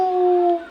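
A man imitates a dog with a short, steady, tonal howl-like vocal that holds level for about half a second and then fades, heard close and alone.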